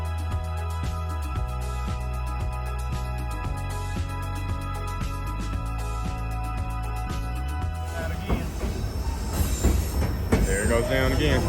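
A train rolls along an Alaskan railway, with steady rumble, rhythmic wheel clatter and faint squeal, and a brief louder rattling burst toward the end. Voices are not distinct.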